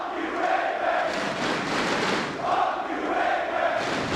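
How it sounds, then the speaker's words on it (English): A large esports crowd at a Counter-Strike 2 match chants in unison, a dense roaring wall of voices that rises in rhythmic swells, heard from within the arena with no single speaker standing out. "Crowds around the world love to chant,"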